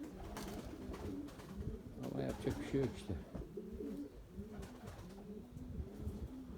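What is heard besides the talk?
pigeons cooing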